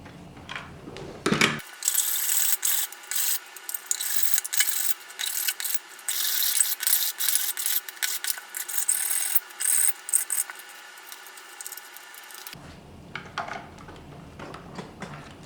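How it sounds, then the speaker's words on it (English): Sanding a tight-fitting plastic part of a Nerf Longstrike CS-6 blaster: steady, close, rasping scrubbing strokes in rapid irregular rhythm, running continuously for about eleven seconds between quieter handling noises. "I'm just going to sand it down just a little more"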